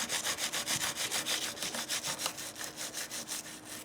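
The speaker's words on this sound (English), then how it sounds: "I'm just going to try to clean these saddles a little bit." An old toothbrush scrubs the saddles of a Made in Japan Fender Stratocaster. It makes a rapid, even back-and-forth rasping, about four strokes per second, close up with no talking.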